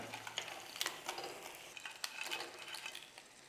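Crab pieces dropped into a pan and stirred for a Kerala crab roast, soft sizzling with scattered scraping and clinking of a spoon against the pan, close but fairly quiet.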